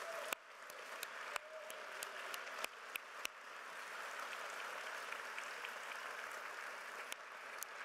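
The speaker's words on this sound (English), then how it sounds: "a round of applause for our Rob Quinn" Faint, distant applause from an audience at an award dinner, a few sharp claps at first, then a steady patter of clapping that continues throughout.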